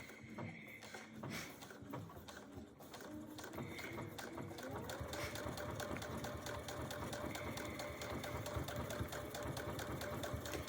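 A sewing machine quilts with a hand-look quilting stitch, starting with a few hesitant stitches, then speeding into a steady, rapid mechanical chatter that grows slightly louder and continues evenly to the end, close and without talking.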